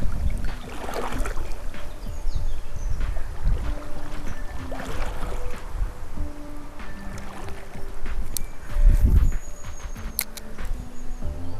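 Steady outdoor wind rushes and buffets with a low rumble by a river, the whoosh swelling in gusts near water, with no voices.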